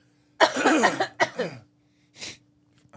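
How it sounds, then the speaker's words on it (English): Two people let out a few short, breathy coughs in close succession, followed by a softer sniff-like burst, close and clear in a quiet room. "Let's both take a little cough."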